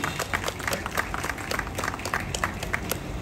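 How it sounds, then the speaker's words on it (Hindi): Birthday celebration crowd for Prime Minister Narendra Modi in Sector 22D, Chandigarh, clapping steadily; the applause is moderate and continuous, with separate hand claps audible throughout the short burst. "एक बार तालियों से उद्घोष होना चाहिए हमारे प्रधानमंत्री जी के जन्मदिन"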